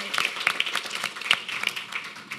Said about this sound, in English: So a quick round of applause for them.